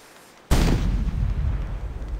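A cannon fires in the Lost Lands 4 video game with one sudden loud boom at about half a second, then a long rumbling, crackling decay that stays loud to the end, with no talking.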